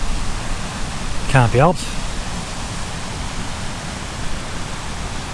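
A river flows steadily beside a campsite, a constant broadband rush filling the background while a brief voice speaks over it.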